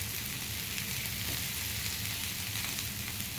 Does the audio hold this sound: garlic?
yes